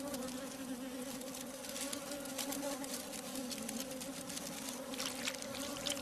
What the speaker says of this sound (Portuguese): Durante os meses de verão, abelhas operárias produzem incansavelmente mel para a colmeia.